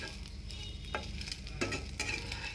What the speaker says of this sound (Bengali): আর মাছটা আমি হালকা করে ভাজবো